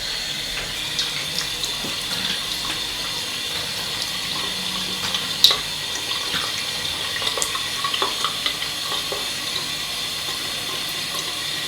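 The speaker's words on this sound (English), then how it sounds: "Right, just rinse off." Tap water runs steadily into a sink for rinsing after a shave, a continuous close hiss with a few faint splashes and clinks, no voices.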